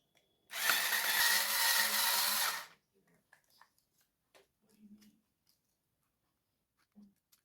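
Screws being driven out of a JJRC RC car part with a small power screwdriver, one loud buzzing whir of about two seconds followed by faint clicks and handling of parts, close up.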